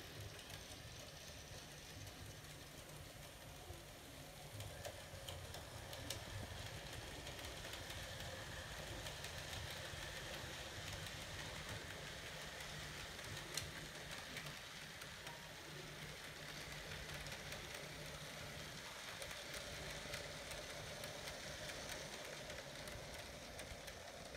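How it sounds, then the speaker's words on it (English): An HO scale Proto 2000 Pennsylvania S1 model locomotive rolls along the track, its wheels giving a faint, steady low rumble on the rail with light clicks, quiet and continuous with no speech. "It runs very quiet. You can hear the wheels on the rail."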